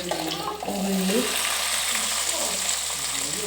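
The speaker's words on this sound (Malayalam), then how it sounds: "ഈ ഇഞ്ചിയും വെളുത്തുള്ളിയും മൂത്തതിന് ശേഷം നമുക്ക് അതിലേക്ക് കുറച്ച് ഉള്ളി" Onion drops into hot oil with ginger and garlic, setting off a lively frying sizzle that holds steady, with faint clatter and a brief murmur of a voice nearby.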